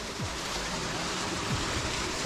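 A small waterfall pours over rocks in Mundakai, a continuous, even rush of splashing water close by with no voices.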